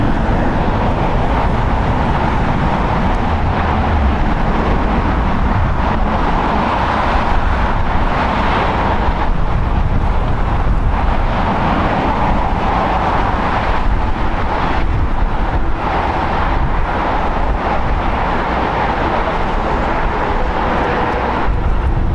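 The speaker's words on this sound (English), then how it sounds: "Singapore has made its way over here to the south side to pull into Tom Bradley Terminal." Singapore Airlines jetliner taxiing toward the Tom Bradley Terminal at LAX, a steady, broad engine roar that stays loud and fairly even throughout, with rumbling and wind noise and no voices.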